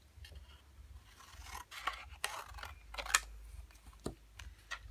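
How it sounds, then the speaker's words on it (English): Scissors snip through a small scrap of paper for a handmade card, making a few quiet, close clicks and crisp cuts among soft paper rustling, with no talking. "I'm going to cut this piece"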